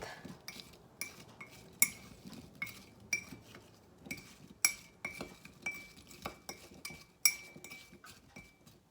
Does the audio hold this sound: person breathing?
no